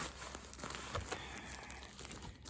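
Plastic bag packaging around bare root strawberry plants packed in moist sawdust and bound with a rubber band, crinkled and handled in a steady, quiet rustle throughout with no voices.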